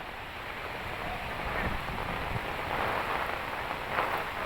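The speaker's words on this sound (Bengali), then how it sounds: "বাইরে এত পরিমাণ বাতাস আর বৃষ্টি, কিছুতেই দাঁড়িয়ে থাকা যাচ্ছে না" Heavy rain pours steadily with strong wind outdoors near a flyover during a storm with waterlogging, making a dense, loud, unbroken roar of drops and gusts for the whole stretch; no talking.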